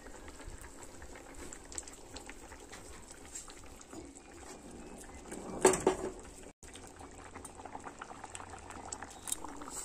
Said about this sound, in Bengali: তরকারি ফুটে উঠেছে